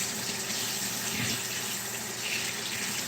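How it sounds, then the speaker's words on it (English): Water runs steadily from a tap into a sink to wash a fork, a continuous close splashing hiss with no talking over it. "I need to wash my fork."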